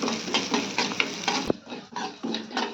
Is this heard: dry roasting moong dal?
yes